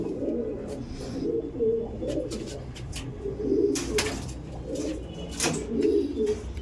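Andhra pigeons coo in soft, rolling bursts that rise and fall every second or two, close and moderately loud, with faint rustles and clicks between the calls.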